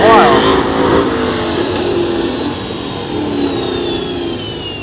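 A supercharged LS V8 car engine revs nearby at a power tour, loud and whining, then its pitch slowly falls away as it eases off, with a voice talking over the start.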